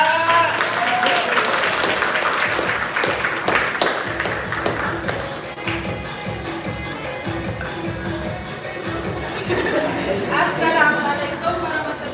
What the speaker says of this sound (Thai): ขอเสียงปรบมือดังๆ